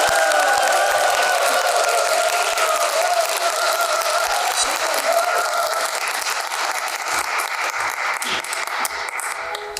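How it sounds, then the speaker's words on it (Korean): An audience at a hunger-relief charity concert applauds and cheers to welcome an elderly church elder to the stage, a loud continuous wash of clapping with crowd cheers layered over a sustained musical tone. "우리 크게 박수로 환호와 박수로 오늘은 우리 장로님을 맞이하도록 하겠습니다"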